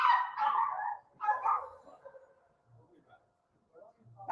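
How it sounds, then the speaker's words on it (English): Village dogs bark in a few loud, close bursts that then die down to faint yips and whimpers while donkeys deliver wood nearby. "All the dogs are barking in the whole"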